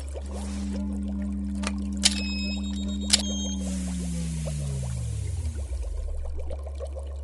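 Chemical liquid poured from an opened tube into a mixture gives a steady low trickle for about five seconds, its pitch gliding downward as the flow ends, with two faint sharp clicks early on and no talk.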